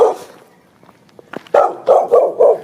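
A dog on a residential street barks close by, a few sharp yips at first, then a quick run of four loud barks after a short pause.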